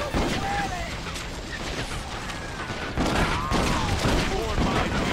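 Gunfire in the western video game Red Dead Revolver, dense rapid shots and ricochet whines crackling loudly, with a person talking over it.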